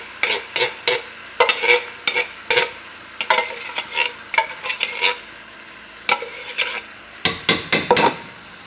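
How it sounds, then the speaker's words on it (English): Crushed tomatoes from a 28-ounce can are scraped into a pan of cooked meat, giving a steady run of close, wet scraping and stirring strokes in a quick irregular rhythm. "we're going to go ahead and add the 28-ounce can of crushed tomatoes"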